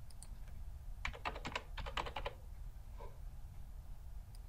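Fingers tap out a quick run of keystrokes on a computer keyboard, entering invoice details into accounting software. The clicks are clustered and moderately close, followed by a lone keypress over a low steady room hum.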